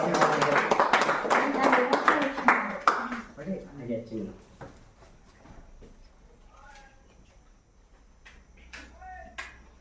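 A group claps for a birthday celebration, with dense loud applause for the first few seconds that then fades, followed by scattered sounds and people talking.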